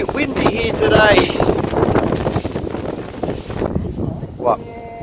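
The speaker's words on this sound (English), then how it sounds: "you can probably tell it's a little bit windy here today" Gusty wind buffets the microphone at a campsite in Kanangra-Boyd, NSW, a steady rough rush that swells and fades beneath people talking throughout.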